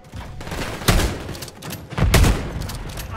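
Shotgun blasts in a GTA 5 roleplay gunfight, two heavy booming shots about a second apart with lingering roar and rumble, loud and close with no talk.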